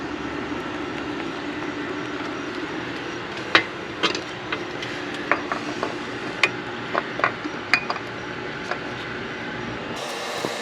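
An oil filter being spun onto a Toyota Sienna by hand gives a run of sharp, scattered metallic clicks and ratchet-like ticks over a steady mechanical background hum, fairly close and without talk.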